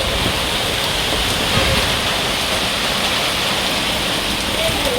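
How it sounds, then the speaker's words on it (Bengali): Steady heavy rainstorm, a dense continuous hiss of downpour close by, unbroken and uniform with no voices over it. "ঝড় বৃষ্টি শুরু হয়ে গেছে"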